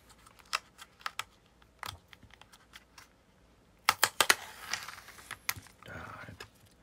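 Crinkly plastic packaging of a cheese box is torn open and handled in short scattered bursts, sparse at first, then a quick flurry of crackles and rips near the end.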